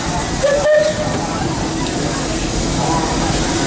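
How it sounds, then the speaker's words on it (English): Steam whistle of the C.K. Holliday, Disneyland Railroad locomotive No. 1, heard from the cab as a short, clear tone amid a constant hiss and rumble of the train. "Remember how many whistles for forward? 2."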